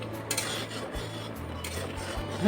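Milk being stirred in a pan as it reduces into khoya, giving a steady scraping and rubbing of a utensil against the metal pan with faint clinks, continuous and close, without any talk.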